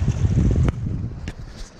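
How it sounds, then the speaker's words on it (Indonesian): Strong wind and waves at sea after a storm, with moored boats nearby, make a steady heavy roar that eases slightly after a brief sharp knock. "Ombak pun dengan angin agak kuat dekat luar sana tu."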